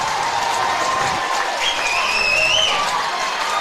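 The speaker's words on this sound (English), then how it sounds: "As this Byron crowd is getting loud." A Byron crowd at a baseball section championship game cheers and applauds steadily, a dense, loud wash of clapping and voices with a few whistles rising above it.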